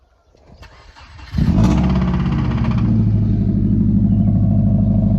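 A Subaru engine with 190,000 miles cranks briefly, catches and roars to life, then settles into a steady, loud rumbling idle close by.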